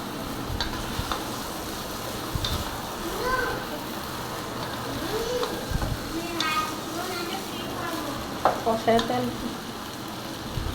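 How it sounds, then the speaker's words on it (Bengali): Polao rice stir-fried in oil in a pan, with a steady sizzle and intermittent scraping stirs, while someone talks over the cooking. "এটাকে আমি একটু কষাই নিব, এই পোলার চালটা।"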